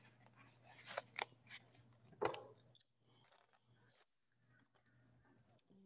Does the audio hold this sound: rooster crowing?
no